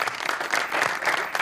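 Studio audience applause on a Pakistani TV talk show, a steady dense burst of many hands clapping, loud and close, lasting the whole short moment without letting up.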